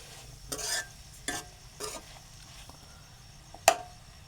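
Onion sautéing in a pan for a fenugreek leaf vegetable dish, a low frying hiss broken by a few brushing stirs and one sharp metallic clink near the end. The sounds are close and quiet, with no talking.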